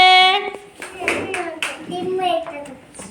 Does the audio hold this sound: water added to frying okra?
no